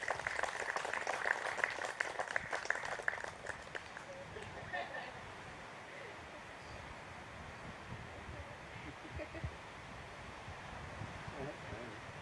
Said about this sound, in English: I think she deserves a round of applause for that.